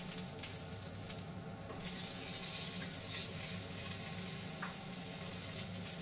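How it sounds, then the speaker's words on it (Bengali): Sliced onion, garlic cloves and a piece of ginger sizzle steadily in hot ghee, a continuous close frying hiss with occasional stirring scrapes and a brief louder burst partway through, no voices. "দুটি বড় পেঁয়াজ কুচানো মোটা করে কোচানো পাঁচ ছয় কোয়া রসুন আর আদা এক টুকরো এগুলো সব আমি ঘিয়ের মধ্যে একটু অল্প করে ভেজে নিচ্ছি"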